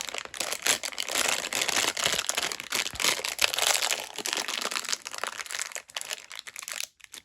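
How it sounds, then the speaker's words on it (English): A plastic bag crinkles and rustles up close in irregular bursts while items are packed into it, with brief pauses between handlings and no speech. "this is going to go into a plastic bag"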